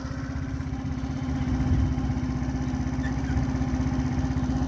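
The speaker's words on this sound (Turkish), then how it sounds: "Tek marşta çalıştı hemen." A freshly started RKS Azure 50cc motorcycle engine idles steadily nearby with a fast, even putter that stays constant throughout, with no voices.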